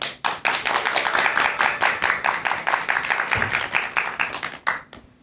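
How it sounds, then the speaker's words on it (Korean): Audience applause at a lecture on laughter exercise, many hands clapping in a brisk, steady rhythm close by, fading out at the end. "큰 박수 부탁드립니다."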